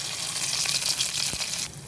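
Curry leaves hitting hot oil with peanuts in a pan for potato-onion poha, giving a brief, bright hissing crackle close by that fades slightly at the end.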